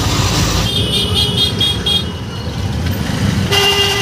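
Dense city traffic around a taxi ride in Hyderabad, with car horns tooting in short bursts over a steady engine and road rumble, loud and close throughout.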